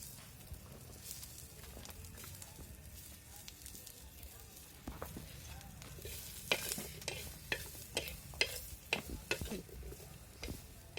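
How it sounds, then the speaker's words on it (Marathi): Onion roasts on an iron griddle over a wood-fired village stove, a low crackling sizzle broken by sharp scraping and tapping strokes that grow louder and more frequent toward the end. "तव्यावर कांदा भाजून घेऊ."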